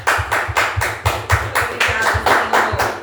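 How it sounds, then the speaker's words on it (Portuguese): A church congregation claps in praise to the Lord at the end of an evening service, giving a loud, close, rhythmic clapping in a regular beat of about three claps per second, with a low musical tone underneath. "Um aplauso ao Senhor por essa noite."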